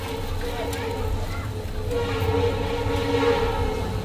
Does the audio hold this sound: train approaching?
yes